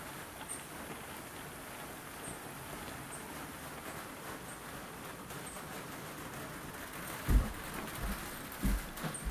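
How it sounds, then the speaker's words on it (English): Steady rain falling in a mountain valley, an even diffuse hiss throughout with a few faint bird calls and some low thumps near the end. "Pissing down rain."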